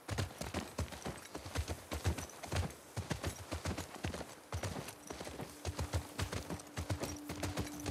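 Horse hooves clip-clop in a steady, even walking rhythm in the video game The Last of Us Part II, close and continuous, with a faint sustained tone entering toward the end.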